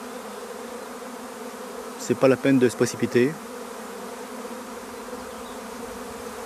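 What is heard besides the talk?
honeybee swarm not yet clustered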